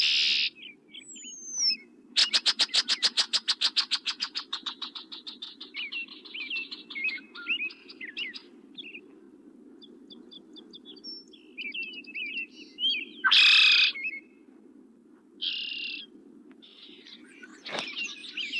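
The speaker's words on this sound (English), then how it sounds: "the local red-winged blackbirds and grackles give the parents a bad time, mobbing them as they commute to and from the nest." Red-winged blackbirds and grackles mob nesting raptors near an oak nest tree in May: harsh chattering calls, a fast rattling trill series and sharp squawks come in bursts, some close and loud, over a low steady hum.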